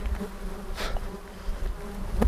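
Flies swarm around hikers on a coastal trail, their close buzzing droning steadily and rising as individual insects pass right by the microphone.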